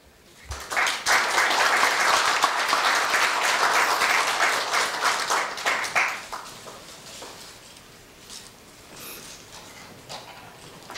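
Loud, sustained audience applause fills a Korea University staff retirement ceremony, dense clapping holding steady for several seconds before thinning out into scattered claps.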